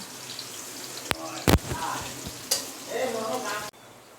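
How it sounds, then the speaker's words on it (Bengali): Onions are dropped into hot oil for beresta, giving sharp clatters and then a close, bubbling sizzle that fades out abruptly. "বেরেস্তা ভাজবো তাই পেঁয়াজগুলো দিয়ে দিলাম"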